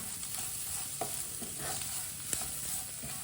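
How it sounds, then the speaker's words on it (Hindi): Spices with turmeric powder cooking in a pan over low heat for aloo tikki, a quiet steady sizzle with occasional soft stirring taps, close and faint with no voices. "मसालों को 1 मिनट के लिए पका लेंगे।"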